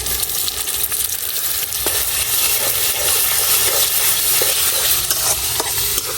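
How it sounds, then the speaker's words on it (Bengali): A ground paste of ginger, garlic and onion fries in a small amount of oil while being stirred, giving a loud, steady sizzle and hiss with scraping stir sounds for beef tripe bhuna. "এখন আদা রসুন পেঁয়াজ সবকিছু খুব সুন্দর করে ভাজে নিয়াম।"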